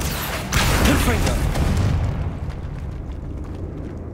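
Confringo spell explosion in the Hogwarts Legacy video game, a loud blast with a rumbling roar that swells after a half second, then slowly decays and fades over several seconds.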